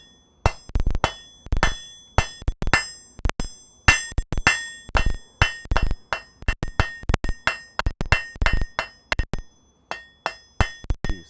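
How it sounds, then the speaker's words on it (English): A blacksmith's hammer strikes hot steel on an anvil in a smithy, shaping it with heel and toe blows. Dozens of sharp, ringing metallic strikes come in quick irregular bursts, loud and close, with no talk. "use the heel and the toe of my hammer to create the look I'm going for"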